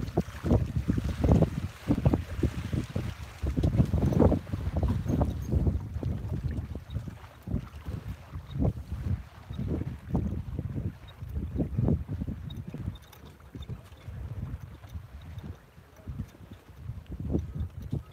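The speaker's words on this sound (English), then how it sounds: "I'm gonna wait for these boats to go by" Sailboats pass close by in a bay, their hulls and rigging giving a steady rushing, sloshing wash of water with heavy gusty wind buffeting throughout, no voices.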